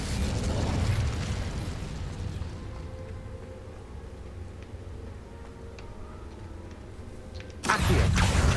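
Incendio fire spell in Hogwarts Legacy: a loud fiery burst opens, followed by a low rumbling crackle that fades, then another sudden loud blast at the end.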